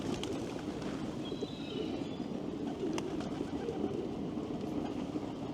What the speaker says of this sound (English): Pigeons, seagulls.